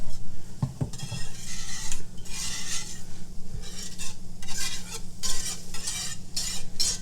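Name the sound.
garlic sizzling and being stirred in a pan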